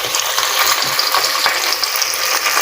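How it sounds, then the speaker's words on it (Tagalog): Tilapia fries in a pan with a continuous, crackling sizzle full of small pops, steady and close throughout, with no one speaking. "Nagpiprito na lang tayo ng tilapia."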